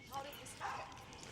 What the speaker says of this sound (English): that is a happy dog